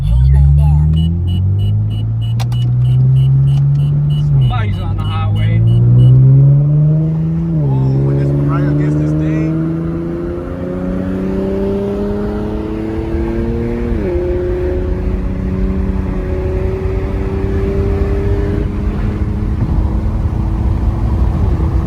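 Car engine with an aftermarket axle-back exhaust, and newly fitted downpipes mentioned nearby, builds through a series of rising revs and gear-like steps, a loud close drone that keeps climbing, with people talking over it.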